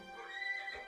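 A single horse whinnies briefly in a high, quavering neigh, moderately faint and alone, with a low snort at the end.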